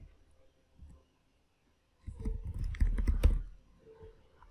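A burst of quick keystrokes on a computer keyboard while entering terminal commands on Fedora, a short cluster of close clicks after a near-silent pause, with faint taps before and after.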